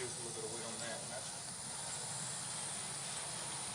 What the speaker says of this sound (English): The airplane's flying like the other one.